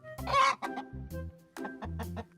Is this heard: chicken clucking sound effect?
yes